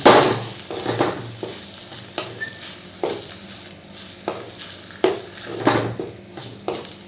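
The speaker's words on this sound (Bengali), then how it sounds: "ডিমটা দিয়ে কিন্তু এরকমভাবে নাড়াচাড়া করতে হবে না হলে ডিমটা এক জায়গায় জমে থাকবে" An egg is stirred into raw tomato frying in a pan, with a steady sizzle under repeated scraping strokes of a spatula against the pan, close and moderately loud.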